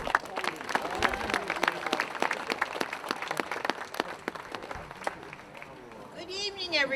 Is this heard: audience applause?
yes